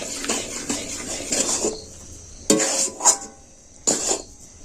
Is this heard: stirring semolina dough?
yes